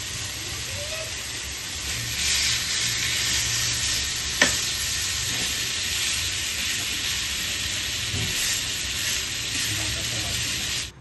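Spiced chicken pieces for shawarma rolls sizzling on a hot tawa, a steady close hiss and crackle with a sharp clink near the middle, continuing without talking.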